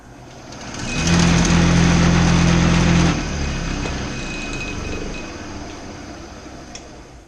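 A steady wood lathe hum starts up about a second in, holds loud for two seconds, then drops to a lower whir that fades gradually, with no talking.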